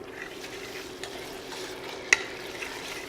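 Ripe tomatoes go into a sautéing onion refogado for chicken cabidela. A steady close sizzle runs throughout with soft stirring scrapes and one sharp utensil clink near the end, with no talk.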